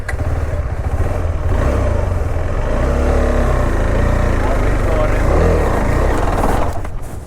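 A KTM adventure motorcycle at an off-road riding academy fires up and idles loudly and close, a steady rumbling engine throughout with a voice faintly audible beneath it.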